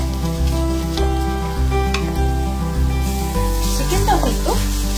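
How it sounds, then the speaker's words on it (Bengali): Pieces of chicken frying in a pan, seasoned with a little black pepper, give a steady close sizzle with occasional stirring clatter and no voice over it. "চিকেনটাও কিন্তু ভাজা ভাজা হয়ে এসছে।"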